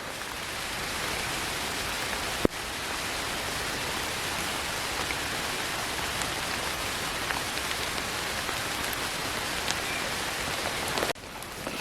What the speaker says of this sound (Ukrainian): А дощик все сильніше і сильніше стає.